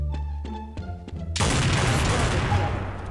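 Gunfire in Counter-Strike 1.6 on a sniper map: a few sharp single shots, then a loud, dense burst of rapid shooting that carries on to the end.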